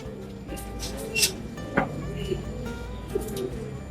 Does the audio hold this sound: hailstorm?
no